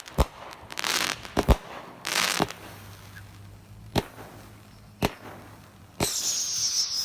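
Distant fireworks from a 200 gram repeater cake with crackle and comets pop in scattered bursts, with sharp bangs, crackling hiss between them, and a whistling streak near the end; fairly faint.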